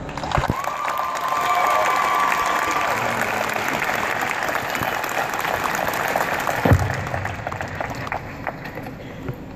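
An audience at a 2014 University of Texas at Austin science commencement applauds to welcome a speaker to the podium. Sustained clapping and some cheering fill the hall, swelling early and then easing off.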